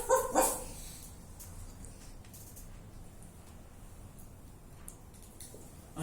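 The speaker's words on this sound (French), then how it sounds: "un chien grand" A large dog barks a few times close by near the start, then the scene settles into a quiet street background with faint noises.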